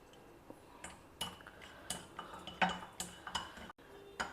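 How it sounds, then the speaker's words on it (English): Tamarind pieces are dry roasted in a kadai, with scattered scrapes, taps and light clinks of a utensil against the pan, close and fairly quiet, in irregular bursts. "I am dry roasting the tamarind"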